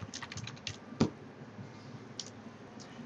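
Close, quiet typing on a computer keyboard, with a short run of key clicks, one louder keystroke and a few scattered taps after it.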